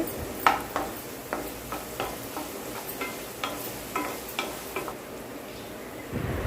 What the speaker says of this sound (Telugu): ఇప్పుడు అల్లం వెల్లుల్లి పేస్ట్ వేసి కలబెట్టుకోవాలి